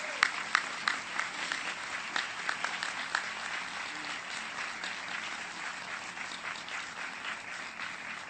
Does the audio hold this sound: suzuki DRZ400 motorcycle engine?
no